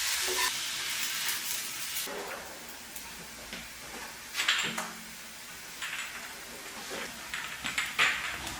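Finely chopped onion, tomatoes and herbs frying in hot oil, a constant close sizzle broken by repeated scraping stirs and clinks against the pan.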